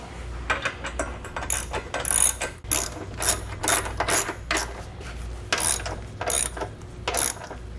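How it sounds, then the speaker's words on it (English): A ratchet with a 19mm socket snugs up M12 bolts on an etrailer hitch receiver being fitted to a 2021 Toyota Highlander, giving repeated rapid clicking bursts in short strokes, close and clear with no talking. "we're going to come back with a 19mm socket and snug up all of our fasteners"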